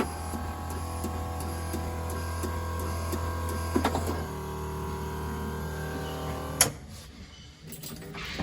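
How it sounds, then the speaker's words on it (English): A 1954 Corvette's vacuum-operated wiper motor runs with a steady mechanical hum and rhythmic ticking, changes pitch partway through, then gives a sharp clunk before settling into quieter running. "Probably not many people seen a vacuum wiper motor work that good."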